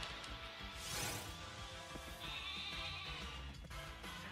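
Wooloo, the sheep Pokémon, gives its bleating cry during a wild encounter in Pokémon Sword. A soft, wavering bleat sounds over a steady, faint background.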